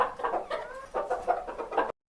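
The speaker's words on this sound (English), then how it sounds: "Hen." A hen clucks in a quick run of close, clear, throaty notes, about eight evenly spaced clucks before the sound cuts off abruptly.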